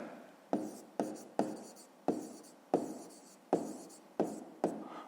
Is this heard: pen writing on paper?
yes